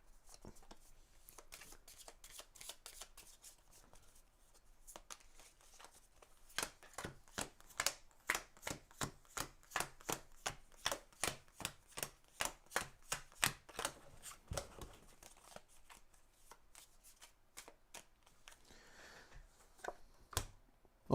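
Board game cards from an exploration deck shuffled and flipped in a 7th Continent playthrough: quiet riffling at first, then a steady run of about twenty crisp card flips in quick rhythm, close and clear with no talking.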